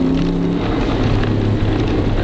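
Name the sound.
2006 Dodge Dakota truck accelerating in second gear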